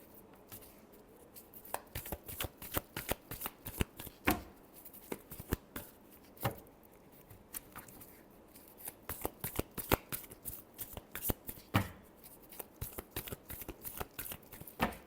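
Tarot cards shuffled by hand in a steady run of quick, soft riffling bursts that continue for the whole stretch, close and fairly quiet with no talking.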